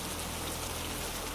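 Steady rain falls on surfaces in an even, constant hiss, close and unbroken, with no voices over it.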